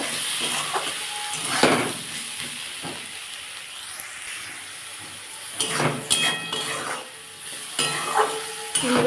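Spinach with turmeric, salt and cumin sautés in oil in a pan for chorchori, giving a steady close sizzling hiss broken by bursts of spatula scraping and stirring.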